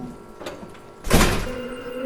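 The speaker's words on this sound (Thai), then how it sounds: "เดินนำเขาเปิดประตูห้องเก็บของกลางไปดู" A storage room door is opened with one loud, close thunk and rattle, preceded by quieter creaks and a faint earlier knock, then a low hum as it settles.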